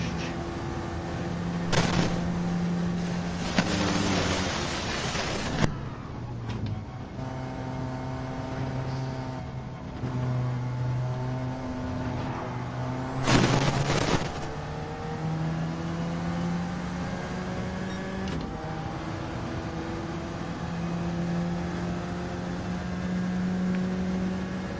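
A race car engine in a racing video game shifting up into sixth gear: a steady high engine drone with sharp gear-change breaks and rising pitch, loud and with no talk.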